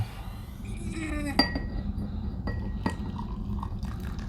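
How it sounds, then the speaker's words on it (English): A tea bag going into a fancy teacup from a Ukrainian military ration kit, with light clinks of china and a couple of sharp tinkling taps over a low background hum. "we're going to put it into our fancy schmancy teacup"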